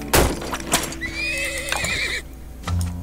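Horses whinny in the video game Turmoil: a loud, close, warbling neigh stretches through the middle, with sharp clip-clop and knocking game sounds before and after it and no talking.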